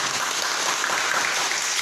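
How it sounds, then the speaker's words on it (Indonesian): A class breaks into applause, a dense, steady patter of clapping hands lasting a couple of seconds at even loudness. "Tepuk tangan untuk."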